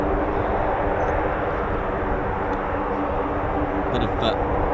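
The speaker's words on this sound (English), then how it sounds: "bit of nice sounds over there from one of the C-130s from Ramstein" A Lockheed C-130 transport aircraft from Ramstein flies past, a steady broad engine roar holding loud and even throughout with faint talk underneath.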